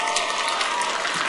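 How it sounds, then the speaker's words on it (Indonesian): Audience applause welcoming nine contestants onto the stage at an Oiran beauty contest, a dense, steady wash of clapping lasting about a second with no break. "Mari sambut mereka dengan tepuk tangan."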